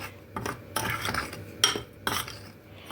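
A utensil stirs milk, sugar and cocoa inside a metal saucepan, irregular clinks and scraping strokes up close, with a few brighter taps against the pan.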